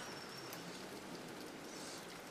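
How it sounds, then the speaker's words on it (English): Rain falling in an animated cartoon, a soft, steady hiss of many fine drops on surfaces, faint and even throughout with no voices. "Yes, it is raining."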